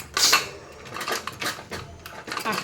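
Pressure cooker lid being opened after cooking chana and masoor dal, a run of close metallic clanks and scrapes of pot and lid, loud and irregular.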